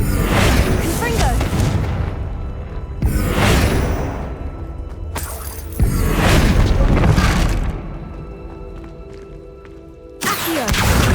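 Confringo blasting spell explosions in the Hogwarts Legacy video game, several loud booming blasts with crashing debris and whooshes, one after another with short gaps between them.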